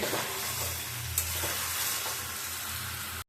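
Chicken pieces are stir-fried (kosha) in a pan, with a loud continuous sizzle and occasional scraping stirs, close up with no voices.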